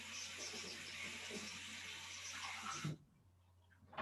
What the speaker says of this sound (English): I'm going to get a mug and put some cold water.